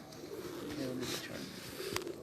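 A pigeon from an old, special bloodline coos in low, soft, rolling calls. The sound is faint and close, with a voice murmuring in the background.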